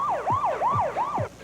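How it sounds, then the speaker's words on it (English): A police car siren wails nearby in a steady, repeating rising-and-falling sweep, loud and alone, cycling about four times within a second and a half. "A police car was blowing its siren."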